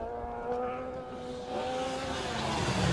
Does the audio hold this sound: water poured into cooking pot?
no